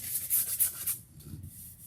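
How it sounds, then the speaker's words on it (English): Sandpaper rubs over a rough spot on a wooden piece from a home craft kit, a short close scratchy stroking that fades after about a second. "you can take a piece of sandpaper that's included in your kit and just hit"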